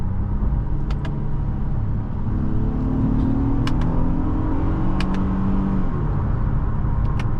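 A 2019 Honda Passport Touring SUV engine accelerating on a test drive, heard from inside the cabin as a steady, rising drone with road rumble underneath and a few faint clicks, with no talking.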